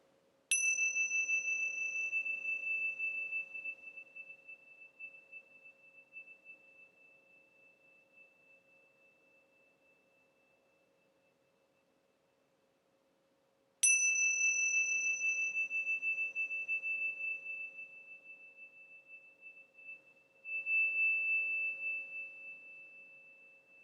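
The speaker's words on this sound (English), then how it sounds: "to be aware of the sound of the bell moving through time" A meditation bell strikes twice, each clear ringing tone sustaining and slowly fading away into silence, alone with no voices.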